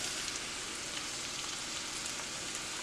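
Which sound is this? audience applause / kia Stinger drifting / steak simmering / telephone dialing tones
steak simmering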